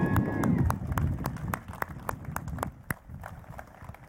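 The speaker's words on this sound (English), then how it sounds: "Round of applause for Jeff." A small crowd at a Chevrolet SS launch event in Daytona gives a round of applause for Jeff, heard as sparse, fairly quiet individual claps spaced out over a low background, thinning toward the end.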